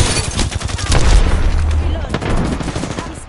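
Apex Legends firefight with loud, continuous automatic gunfire and booming impacts, dense and close, with voices underneath.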